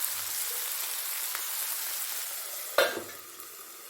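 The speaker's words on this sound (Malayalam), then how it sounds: "നമുക്കിതൊന്ന് ഇളക്കി കൊടുക്കാം." A spoon stirs a raw banana and cowpea stir-fry in a hot pan over a steady sizzle, with one sharper scrape near the end before the frying quiets slightly.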